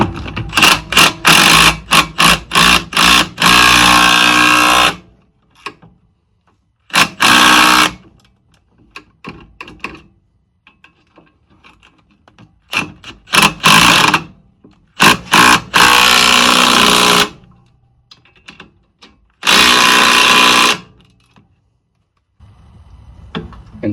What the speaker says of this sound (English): Use a ratchet and an impact to tighten them.